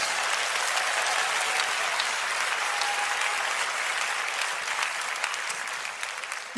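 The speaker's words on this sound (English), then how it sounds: "clap your hands and give God praise" A church congregation claps hands in praise during a sermon, a loud steady roar of many hands that holds throughout and eases slightly at the end.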